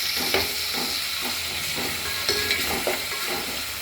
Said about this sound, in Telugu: ఒక చెంచా అల్లం, అల్లం వెల్లుల్లి పేస్ట్, పచ్చి వాసన పోయేదాకా వేయించుకోవాలి